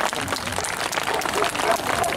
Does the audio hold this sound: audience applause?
yes